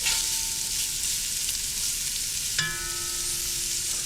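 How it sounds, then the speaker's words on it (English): Chopped onions and garlic dropped into hot Spanish olive oil in a pan for Rioja squid, a steady loud sizzle that flares sharply when the ingredients hit the oil, with no voices. "Let's get the onions and garlic in."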